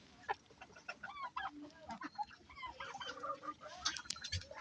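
Farm turkeys on a small flooded farm call in a busy flock, with repeated overlapping gobbles and clucks at moderate distance and no talk.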